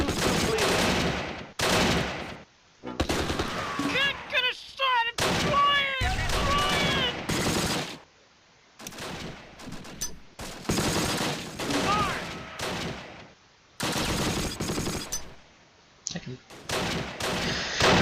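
Machine gun fire and other battle shots in the World War II strategy game Close Combat: Last Stand Arnhem, sounding as repeated loud bursts broken by gaps, with shouted voices between some volleys.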